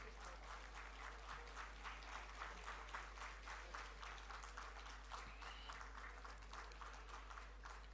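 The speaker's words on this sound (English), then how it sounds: "So let's give a round of applause for GTTC." Audience applause at a skills summit awards ceremony in Bengaluru, a steady patter of many clapping hands sustained evenly across the whole stretch, moderately loud and without speech over it.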